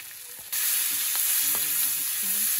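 Potatoes hit hot oil in a wok, a sudden steady sizzle taking over after a quiet start, with occasional close clicks and scrapes of a spatula stirring them.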